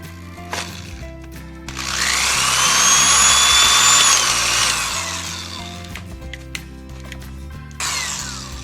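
A power drill whirs steadily for a few seconds, widening mounting bracket holes near a vehicle radiator, rising in pitch as it bites, with short bursts and clicks before and after.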